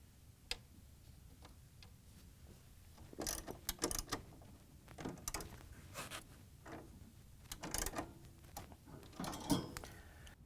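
Screws are tightened on a condenser fan motor bracket of a Frigidaire/Electrolux unit, with soft irregular ticks and clicks from the driver and a few louder clacks, quiet and close.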